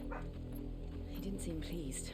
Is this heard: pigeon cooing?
no